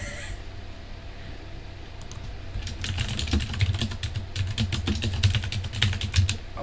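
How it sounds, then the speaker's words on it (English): Fast typing on a computer keyboard, with a rapid irregular clatter of key clicks that starts after a couple of seconds and continues close and steady over a low background hum. "Oh, furiously typing."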